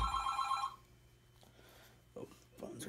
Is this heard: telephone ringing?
yes